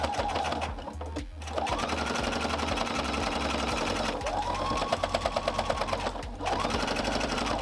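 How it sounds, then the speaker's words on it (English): Sewing machine stitching pieces of a Squid Game costume, rapid steady needle chatter in bursts with short pauses between, close and clear. "So I'm gonna sew all of this stuff on"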